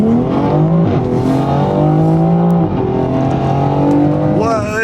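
A BMW M4 launches hard, its engine climbing loud and close through the gears in rising sweeps, with a brief dip at each shift and a final high rev at the end.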